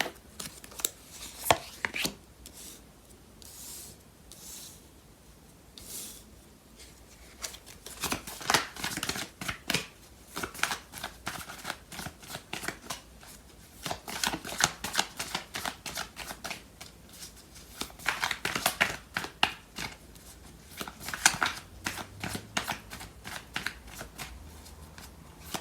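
Tarot cards being shuffled by hand in bursts of riffling and sliding, quiet and close, with short pauses between rounds.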